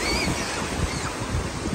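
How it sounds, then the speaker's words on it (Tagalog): Gusty wind buffets the microphone in a constant rumbling roar, with a faint wash like surf in the background and no one speaking. "malakas pa yung hangin."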